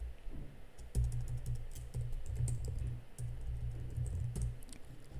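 Keys clatter on a computer keyboard as a shortcut is entered, a quiet, close series of light irregular clicks over a low steady hum, with no voices.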